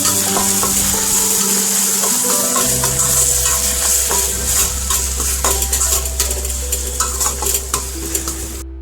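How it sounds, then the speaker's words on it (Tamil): A spoon stirs red chilli sauce and soy sauce through pasta sauce in a pan, scraping and clinking loudly against the metal over a constant sizzle, with no talk. "கொஞ்சமாக வந்து ரெட் சில்லி சாஸ் ஊற்றி சோயா சாஸ் ஊற்றிக்கிறேன் மிக்ஸ் பண்ணிக்கலாம்"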